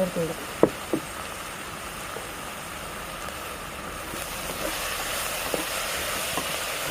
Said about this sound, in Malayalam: സവാള നല്ല ബ്രൗൺ നിറമാകുന്നത് വരെ വഴറ്റിയെടുക്കുക